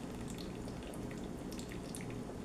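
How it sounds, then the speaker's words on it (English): Water running and splashing steadily as it is drained off washed rice in a cooking pot, a close, continuous wet pour with small drips throughout and no talking. "drain off the water"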